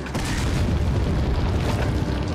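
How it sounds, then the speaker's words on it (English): Grenade blast in Resident Evil 4 (2005), a sustained loud low booming rumble with crackling debris filling the whole stretch at steady intensity, no voices. "And then you grenade him."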